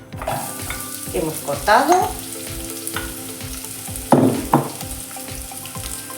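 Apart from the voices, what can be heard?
onion and leek frying in hot oil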